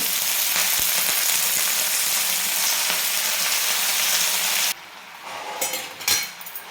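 Green chilies and wild greens (chandanbatwa) sauté in a hot pan with a loud, dense, continuous sizzle that drops sharply when the greens go in, followed by close stirring and scraping.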